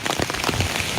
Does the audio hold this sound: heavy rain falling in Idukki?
yes